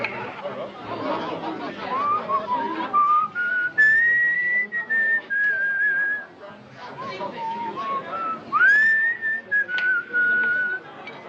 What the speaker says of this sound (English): Couldn't he pick a better time to do his whistling?